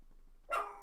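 A pet dog lets out one short, sharp bark after near silence, followed by a quick higher yip, close by and moderately loud.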